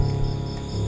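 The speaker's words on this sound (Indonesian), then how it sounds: "Tiba-tiba ada suara jangkrik berkumandang." Crickets chirp steadily through a night-time room, a dense, continuous trill that stays fairly loud and even from start to finish with no voices.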